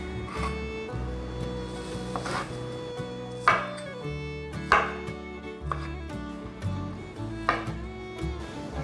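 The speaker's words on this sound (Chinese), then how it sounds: "把大豆酥肉球切成粒状， 换一个方向" A knife chopping soy protein balls into small pieces on a board, several sharp knocks spaced irregularly over sustained background music.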